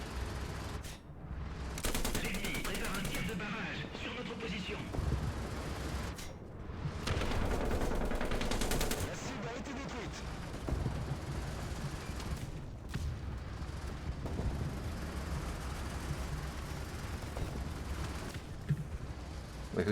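Gunfire aimed at a player's tank in War Thunder, with dense bursts of shots and booming impacts going on nearly nonstop, loud and close, and a few brief pauses.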